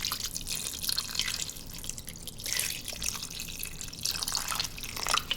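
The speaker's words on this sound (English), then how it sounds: "And when I'm pouring the water, I just bring all this stuff down below." Water is poured into an Instant Pot holding soup ingredients, giving a close, splashy trickle that swells and eases in several bursts over a few seconds, with no talking.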